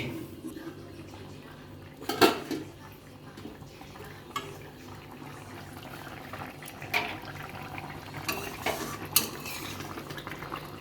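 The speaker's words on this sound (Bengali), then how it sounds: "আমি ঢাকনা দিয়ে দিচ্ছি" A metal lid knocks and clatters onto a pan of koi fish cooking in oil, with several sharp clinks among soft utensil sounds and a faint bubbling simmer underneath. No one speaks.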